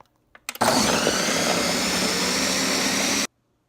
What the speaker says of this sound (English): All right, spirulina is in the blender